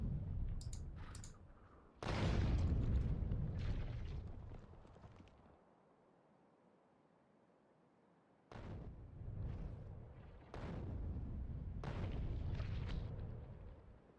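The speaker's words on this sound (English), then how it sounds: "Alien murder artillery sounds to study too." Artillery shells exploding in the factory-building video game Factorio, heard as repeated heavy low booms in clusters, with a quiet gap in the middle before more rumbling blasts follow.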